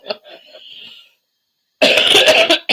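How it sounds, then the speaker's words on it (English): A person coughs during a lighthearted conversation, with a short throat-clearing burst, a brief silence, then a louder, harsher fit of close coughs. "Stop it, you're making me cough."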